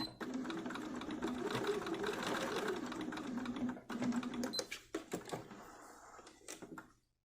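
A sewing machine backstitches over a jeans hem with a close, steady whirring run of stitches for about four seconds, then halts into scattered clicks and fabric handling, fading quiet at the end.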